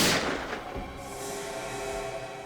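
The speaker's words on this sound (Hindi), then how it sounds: "गोली चलने की आवाज आई।" A single gunshot boom opens with a sharp burst, then a long rumbling echo fades slowly inside a building.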